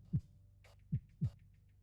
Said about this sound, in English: You can hear like the sound of your own heartbeat.